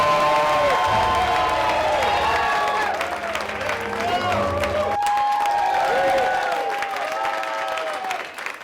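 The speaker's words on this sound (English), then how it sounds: "Let's give him a big round of applause for my main man and the headliner for tonight, Mr. Phil Korz" A comedy club audience gives the headliner of a stand-up comedy special loud, sustained applause with cheers and whoops, while a voice carries over the noise.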